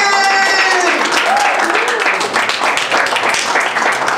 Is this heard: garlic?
no